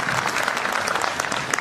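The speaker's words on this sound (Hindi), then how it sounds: "एक बार जोरदार तालियां हो जाए सर के लिए।" Loud, steady applause from an audience at a school annual day, honoring the chief guest. Dense clapping fills the short stretch at an even level from start to finish.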